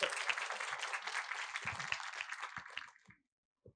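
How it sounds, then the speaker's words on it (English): A conference audience applauds at a data-driven strategies session, a steady spread of many hands clapping at moderate distance that tapers off and stops, followed by quiet and one faint tap. "Give him a round of applause"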